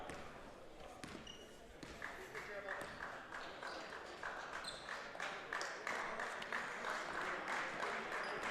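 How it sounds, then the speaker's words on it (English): Crowd at a college men's basketball game against Kean giving a standing ovation as the clock winds down, a sustained roar of applause and cheering with sneaker squeaks and court noise beneath, fairly distant. "Now we're hearing a standing ovation from the crowd."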